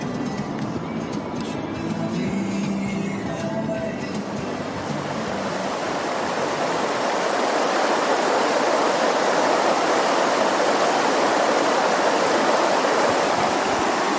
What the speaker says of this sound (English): To me, there are few sounds better in life than rushing water.